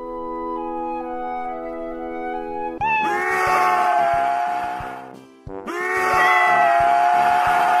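A sustained tone gives way to loud, drawn-out cat meows, two long yowls close by with a brief break between them.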